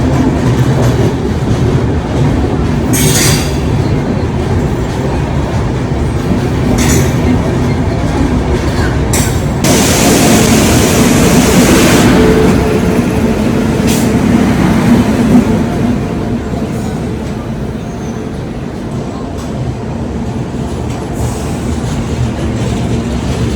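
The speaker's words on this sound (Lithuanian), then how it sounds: "Ir tokie traukinukai." A passenger train in Kochi, India rolls past close by with loud, continuous rumbling and clattering of wheels on rails, swelling in the middle with sharp clanks before easing slightly toward the end.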